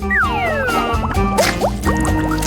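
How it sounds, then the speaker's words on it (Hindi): A crab is dunked into a pot of hot water, giving a brief burst of splashing, dripping and gurgling up close, with a few sliding tones over it. "केकड़े को गर्म पानी में डुबोना होगा।"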